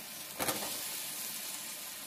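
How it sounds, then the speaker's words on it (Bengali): Previously fried potatoes drop into a hot frying pan with a short crackling burst, then settle into a steady, even sizzle that carries on unbroken. "এবার ভেজে রাখা আলুগুলো দিয়ে দেবো এতে।"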